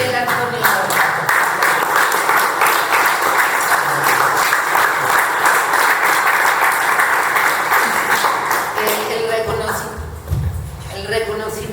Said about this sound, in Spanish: Vamos a ponernos de pie y darle un fuerte aplauso a Fidel Antonio Moreno